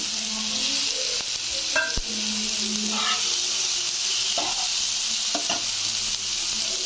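Potatoes sizzle in a pan with onions and tomatoes already frying, a constant hiss punctuated by occasional scraping and clinking stirs, close and clear.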